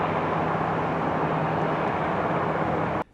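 Aircraft pass directly overhead as a loud, broad, steady roar that fills the sound for about three seconds, then cuts off abruptly. No voices.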